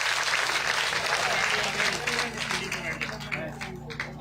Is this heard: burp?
no